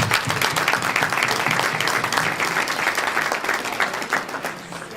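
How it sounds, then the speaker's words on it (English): A dinner crowd at the West Haven Black Coalition gives a round of applause for a woman who has just sung, full and sustained clapping that eases off slightly toward the end. "So please give her a round of applause for doing this."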